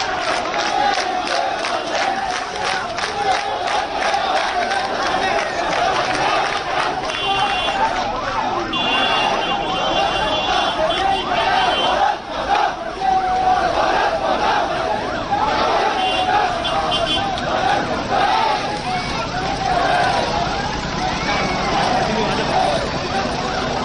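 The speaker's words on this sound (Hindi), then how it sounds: "हजारों की भीड़ उमड़ पड़ी।" A huge crowd gathers at the funeral of soldiers killed on the China border, a dense roar of voices and chanting carrying on continuously, with sirens and traffic faintly mixed in.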